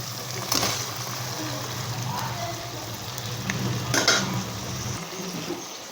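Eggs and potatoes frying in a pressure cooker for masala aloo egg biryani, a steady sizzle with stirring scrapes and a couple of louder clatters.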